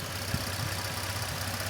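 Nissan Frontier D41 engine idling steadily after a catch can install, a close, continuous low rumble with even rhythm and no voices over it.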